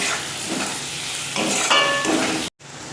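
Chopped tomatoes with salt frying and being stirred in spice paste, a steady close sizzle with scraping stirs, broken by a brief near-silent gap near the end.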